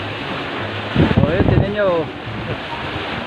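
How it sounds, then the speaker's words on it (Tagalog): Strong wind buffets the microphone while large ocean waves surge and wash around a small fishing boat, loud and close, as someone speaks briefly over the roar. "Napakalakas ng hangin. Napakalalaki ng alon."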